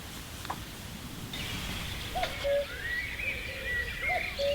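Bird calls ring out at a carp fishing lake in the evening, several short repeated whistled notes at moderate distance in a steady rhythm over a constant outdoor background hiss.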